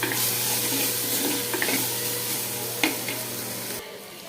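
A tomato, ginger and garlic paste with green chillies sautés in a pan, giving a continuous sizzle and bubbling hiss with a few spoon scrapes and taps, before the sizzling drops sharply near the end.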